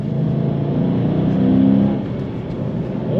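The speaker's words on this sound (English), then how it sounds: "Wonderful acceleration, very nice from this Challenger." A 2013 Dodge Challenger SRT8 in plum crazy purple with a six-speed manual accelerates hard, its V8 rumble swelling into a loud, rising roar heard from inside the car, with no talking.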